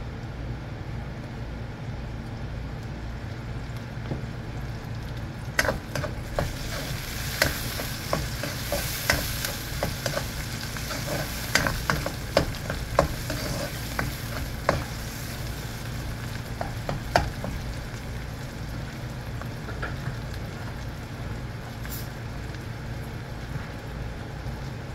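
Browned onions, spices and green chillies frying in a pan for an okra dish, a steady sizzle with scattered stirring clicks and scrapes in the middle stretch.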